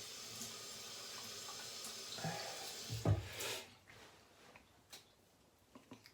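A bathroom tap runs water while the face is wetted before shaving, a soft steady stream with splashing that swells briefly in the middle then fades to faint drips and handling sounds.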